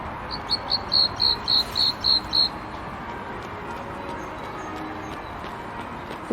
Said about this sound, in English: It could just be a blue tit, but it's making a really quite impressive sound